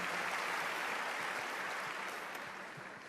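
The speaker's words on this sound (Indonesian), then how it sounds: "Berikan tepuk tangan dia meriah buat Tuhan" A church congregation claps during a sermon, a broad steady wash of hands that holds loudly and then gradually fades toward the end.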